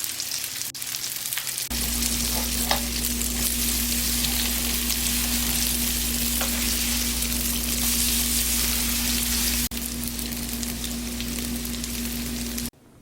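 Spoonfuls of enoki mushroom pancake batter fry in hot cooking oil in a pan, a steady close sizzle and crackle over a low constant hum, with no talking.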